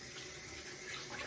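Tap water runs steadily into a sink as hands are rinsed during a shave, a continuous broadband rush at moderate level with no talk.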